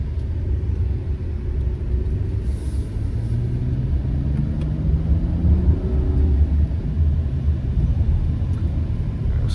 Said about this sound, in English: Get a better view of how it drives on the street.